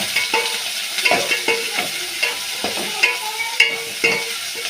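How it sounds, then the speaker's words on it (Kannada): Chillies and onion frying in a pan for a horse gram sprout sambar, a steady crackling sizzle broken by repeated spatula scrapes and taps against the pan, close up with no voices. "ಮೆಣಸಿನಕಾಯಿ, ಸ್ವಲ್ಪ ಈರುಳ್ಳಿ ಕೆಂಪಗಾಗೋದು ಹುರಿದುಕೊಳ್ಳಬೇಕು."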